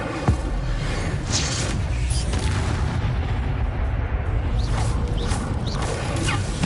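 The Incendio fire spell being cast in Hogwarts Legacy, a dense roaring burst of game combat effects with booming, crackling impacts that hold steady and loud throughout, with no speech.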